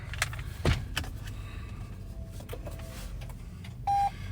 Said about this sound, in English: Let's go ahead, start her up, and show you the startup sequence that we have on this here.